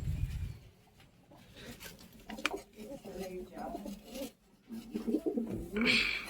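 Soft pigeon cooing and fluttery bird sounds nearby at a pigeon loft, mixed with quiet voices talking and a brief burst of wing flapping.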